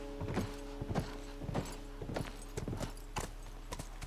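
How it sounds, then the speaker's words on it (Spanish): Horse hooves clip-clop steadily in The Last of Us, a regular walking rhythm of hollow knocks on hard ground, close and clear over a low constant hum and faint background tones. "¡Arre, caballo!"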